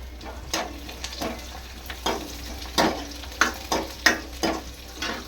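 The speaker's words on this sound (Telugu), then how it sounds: "ఇప్పుడైతే నేనైతే కరివేపాకు, పచ్చిమిరపకాయ వేస్తున్నాను" Curry leaves and green chillies frying in a pan for carrot rice, a steady low sizzle broken by several sharp crackling bursts and utensil clatters spaced a second or so apart, with no voices.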